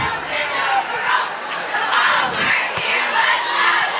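A home crowd in the stands at a St Joe vs Ocean City high school football game cheers and shouts loudly and continuously, a broad roar with overlapping voices.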